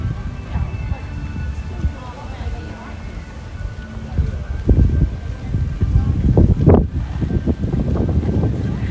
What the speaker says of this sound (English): It is a little breezy here, which is fine.